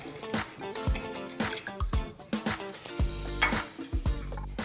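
A spoon stirring Cajun seasoning into a mixture in a bowl: close, rhythmic scraping and clinking strokes repeat steadily over a faint background hiss.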